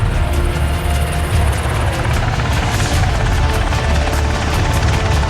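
Several military helicopters carrying US Navy SEAL commandos fly close and loud, a constant heavy rotor roar with a rhythmic blade thump running the whole way through.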